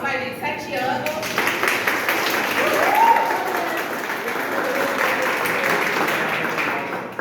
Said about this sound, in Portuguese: Uma salva de palmas, vai, gente.